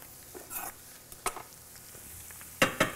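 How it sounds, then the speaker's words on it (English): A spoon stirs rosemary in a hot cooking pan for a cottage pie, giving faint soft scrapes and light sizzling with a few sharper clinks near the end. "Give that a stir."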